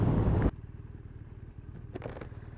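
A 2015 BMW R1200R motorcycle engine runs with a steady low throb and rumble after a loud burst of wind or revving cuts off abruptly at the start.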